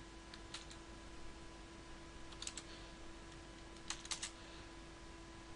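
Typing on a computer keyboard while building a spreadsheet training diary: a few short clusters of soft, quiet key clicks spread apart, with a steady low electrical hum underneath and no talking.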